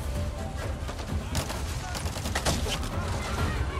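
Bursts of rapid gunfire crackle through a firefight in the video game Avatar: Frontiers of Pandora, with volleys of shots clustered in the middle of the clip at moderate level.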